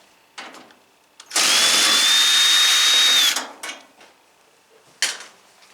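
A power drill removes tight top bracket screws from a Maytag Neptune dryer during disassembly, with one loud, steady whirring burst of about two seconds, followed by brief clicks and a short final buzz.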